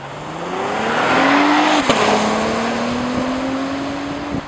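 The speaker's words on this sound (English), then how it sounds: "The sounds this engine puts out is orgasmic." A car engine revs and accelerates with a rising exhaust note through an 8-speed automatic, loud and close, the pitch climbing steadily and then holding, with a sharp click partway through.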